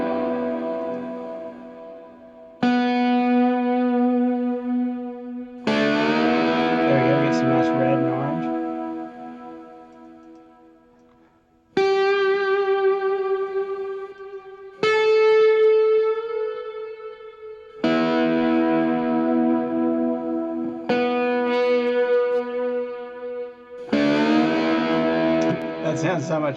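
Audio track pushed 12 dB hot into a distortion plugin for stomp-clap southern rock, giving gritty, saturated tones in separate sustained bursts with pauses, and someone speaks briefly over it.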